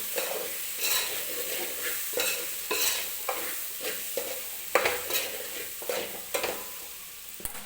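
Mixed vegetables with homemade red chili powder stirred in a pan for veg pulao, with rhythmic repeated spatula scrapes over a steady sizzle, close and moderately loud, no voices.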